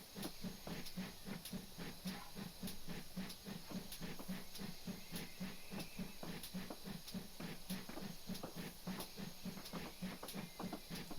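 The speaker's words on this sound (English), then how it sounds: "We're going to go ahead and watch the train come into the station from the side" A steam locomotive in a train simulator game, on the Maritime Line's Falmouth branch, pulls into a station. Regular soft chuffs and a constant steam hiss repeat at a slow, even rhythm, heard from the side at moderate distance with no talking.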